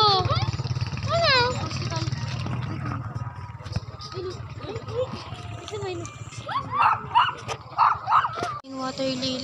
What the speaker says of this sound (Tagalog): Miching, tinatawalan ka ng aso.